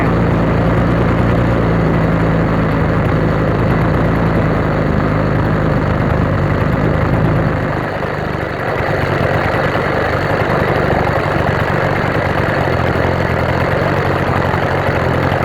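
An 80cc motorized bicycle motor idles loudly and close, with a steady low chugging that dips briefly midway as the idle is turned down, then settles again.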